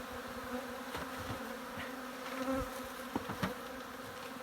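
Honeybees buzz around a hive during spring inspection, a dense steady drone of many wings close by, with occasional louder passes of individual bees and no talk.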